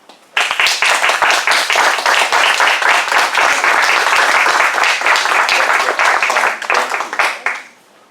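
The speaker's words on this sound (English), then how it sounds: "Just keep on clapping until I sit down." Loud, close clapping at a meeting, many hands applauding in a fast, crisp patter that starts abruptly, holds steady for about seven seconds, then tapers off.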